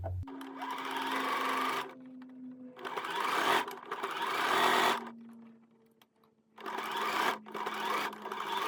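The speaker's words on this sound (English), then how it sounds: "We're going to sew along this original stitch line." A sewing machine stitches along a line on a back welt pocket in three whirring bursts separated by short pauses, close and steady, with no talk.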